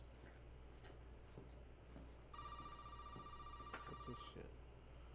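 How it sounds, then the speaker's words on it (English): An old telephone rings inside a dim house in the horror video game Resident Evil 7, a steady electronic bell trill starting partway through and lasting about two seconds over a low, quiet ambient hum. "There's a phone."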